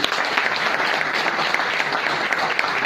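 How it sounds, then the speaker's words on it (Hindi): Dense, continuous applause from an audience at a talk, many hands clapping at once in a loud, even wash with no pauses. "जोरदार सिंह साहब के लिए ताली।"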